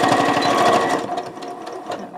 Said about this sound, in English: I'm just going to do a back stitch back and forth to lock it in